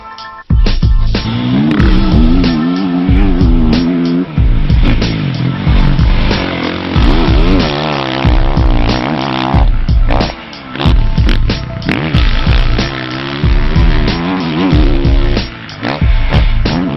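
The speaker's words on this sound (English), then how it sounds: "we're testing out the 2012 Honda" A 2012 Honda CRF450R motocross bike rides a dirt track at Racetown 395, its loud engine revving hard and rising through gears, then dropping and snapping back with throttle blips as it works corners and straights.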